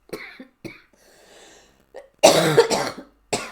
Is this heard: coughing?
yes